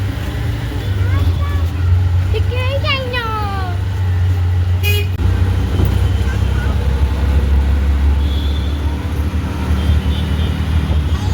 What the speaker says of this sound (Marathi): रिक्षा पकडायला चाललो आता.